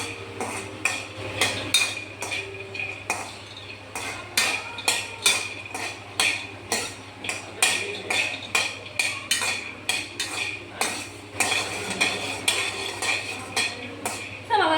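An egg frying in a pan for a Telugu borugulu (puffed rice) mixture, stirred with a metal utensil that scrapes and clinks against the pan in quick repeated strokes, loud and close over a low steady hum.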